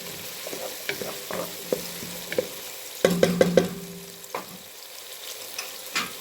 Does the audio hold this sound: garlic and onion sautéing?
yes